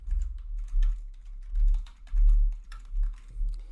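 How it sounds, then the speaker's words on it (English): Someone types a short message on a computer keyboard, a close, steady run of clicking keystrokes in uneven bursts with a low thumping undertone, and no voices. "So I'm just gonna open the notepad here and type some message."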